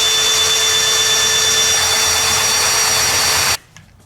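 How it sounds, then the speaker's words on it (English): A cordless drill spinning the steering pump of a 1973 Pontiac Trans Am, a steady high whine held for several seconds before cutting off abruptly, close and loud. "I'm gonna try this cordless drill here"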